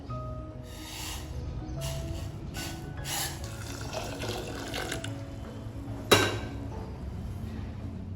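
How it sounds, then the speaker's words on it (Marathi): Hot water pours steadily into a pot of cooked lentils for several seconds, a continuous liquid splashing with a brief louder clatter near the end. "मी आता त्याच्यामध्ये थोडं गरम पाणी टाकून घेणार आहे"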